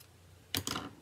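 Ribbon scissors snip twice in quick succession, crisp and close, trimming the tails of a ribbon on a handmade card, with quiet room tone before and no talk.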